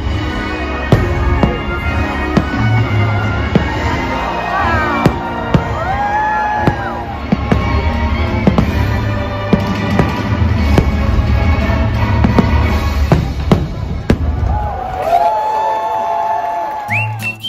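Fireworks at Walt Disney World go off in a long run of sharp bangs and pops with whistling rockets near the end, over a steady rumble of crowd noise.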